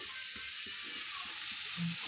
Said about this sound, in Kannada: ಈಗ ಕಾಳು ಒಗ್ಗರಣೆಗೆ ಕಾಳೆಲ್ಲ ಹಾಕ್ಕೊಂಡು ಮಿಕ್ಸ್ ಮಾಡ್ತಾಯಿದ್ದೀನಿ